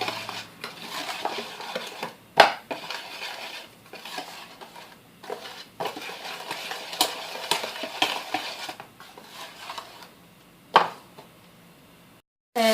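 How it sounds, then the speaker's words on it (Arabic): A spoon or whisk stirs cake batter in a bowl for layered cake, with repeated scraping and clinking strokes at an uneven rhythm and a few sharper knocks against the bowl's rim. "غادي نخلطو هاد الخليط"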